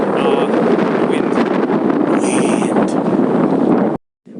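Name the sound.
strong wind at a beach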